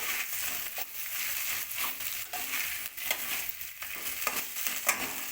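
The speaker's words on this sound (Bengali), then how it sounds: "সোয়াবিন দিয়ে আমি একটু নাড়বো ভালো করে" Soybean chunks stirred through a spice masala with boiled potatoes in a pan for a vegetarian rice dish, giving a steady scraping and gentle sizzle with repeated spoon strokes, fairly close and moderately loud with no talking.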